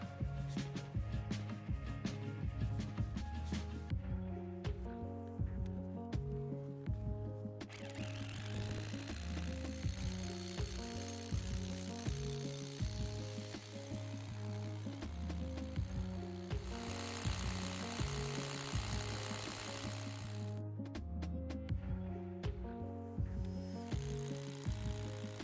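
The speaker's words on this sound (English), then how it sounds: "Fire the hammer drill into hammer and spin mode." Hammer drill in hammer-and-spin mode boring into a large boulder, a steady loud rattling percussive drone running continuously with a few shifts in pitch and intensity, no talking.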